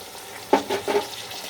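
Chili soybean in tomato, chili and soy sauce is stirred in a frying pan, a soft sizzle with three brief scraping stirs close by.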